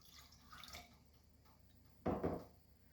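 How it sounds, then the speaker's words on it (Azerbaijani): A glass and a half of water goes into a homemade rice hair-spray mixture as a brief, close splashing pour near the end, after quiet faint background noise. "Hazır etdiyimiz bu qarışımın üzərinə bir stakan və yarım su əlavə edəcəm."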